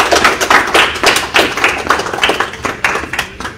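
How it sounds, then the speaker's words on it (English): Audience applause for donors at the grand opening of a mentoring space for Gambian kids in Seattle, a dense burst of crowd clapping, close and steady, fading slightly toward the end. "I want all of us to really give all these donors an applause"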